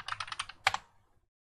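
A short burst of keystrokes on a computer keyboard entering a drafting command, a quick cluster of close taps ending in a firmer key press, then quiet.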